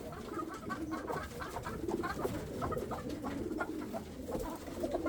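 Pigeons cooing in a loft among molting and younger birds at a feeder, soft overlapping coos and clucks with light scratching and rustling throughout, moderately distant and continuous.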